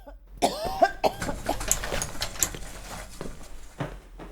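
Acted coughing for a Lagundex cough medicine commercial: a series of sharp, close coughs and throat-clearing bursts in an uneven rhythm, loud and distinct, with brief gaps between them and no talking.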